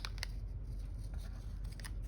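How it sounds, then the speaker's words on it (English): Big sharp scissors trim a paper folio in a close, quiet setting, giving a few crisp snipping cuts at irregular intervals over low steady background noise. "Turning it over with my big sharp scissors."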